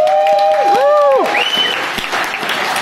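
Applause from a comic con audience in the UK at a Star Trek actor interview: dense, loud clapping that fills the whole clip, with a few sliding whistle-like tones rising and falling over it early on, then slowly easing.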